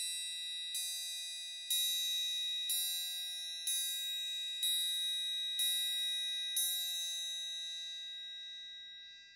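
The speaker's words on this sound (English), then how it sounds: "So there is your single stroke on the triangle." A triangle is struck seven times in a slow, even pulse, each bright metallic ring overlapping the last before fading out alone in a quiet room.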